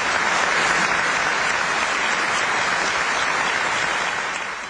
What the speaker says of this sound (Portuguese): Agradecimento vem em forma de aplausos demorados